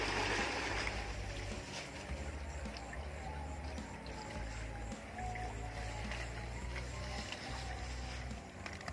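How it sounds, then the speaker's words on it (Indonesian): An engine runs to pump water for spraying a corn crop against a caterpillar pest outbreak. It gives a steady low drone with faint watery trickling and splashing, fairly quiet and continuous. "Kita juga sudah hidupkan mesin agar bisa mensuplai air penyemprotan nantinya."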